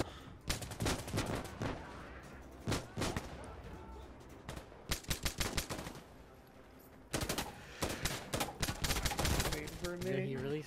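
Gunfire in Insurgency Sandstorm, with dense bursts of rapid automatic shots in several clusters separated by brief lulls, loud and close, with faint voices in the background.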